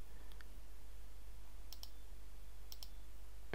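A computer mouse clicks while a chart is formatted in spreadsheet software, a few faint, sharp clicks in two close pairs against a steady low hum.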